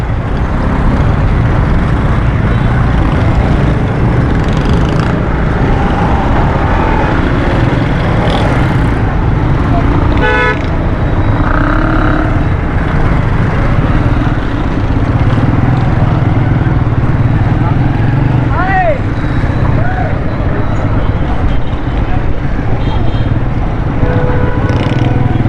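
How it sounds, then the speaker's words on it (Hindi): Congested traffic on a busy Karachi main road, a steady loud roar of car and motorcycle engines with a brief horn-like tone, continuous throughout with voices mixed in. "ये फिर ट्रैफिक जाम हो जाता है"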